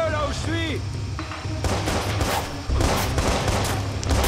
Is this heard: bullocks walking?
no